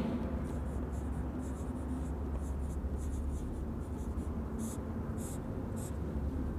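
Pen scratching steadily on a board or paper while writing lecture notes, a continuous close scratchy texture with short stroke bursts, no talk over it.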